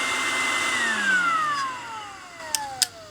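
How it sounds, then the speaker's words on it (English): A Milwaukee M18 battery-powered air duster runs its motor at low RPM on a nearly flat battery, a faint whirring whine that slowly drops in pitch, followed by two short clicks near the end. "You can also hear the RPMs of the motor are pretty low"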